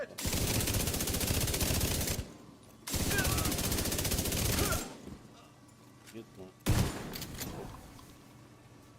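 Automatic gunfire in The Division 2 shooter game: two long sustained bursts, then a pause and a shorter, sharper volley, loud and dense, with a player briefly speaking between the bursts.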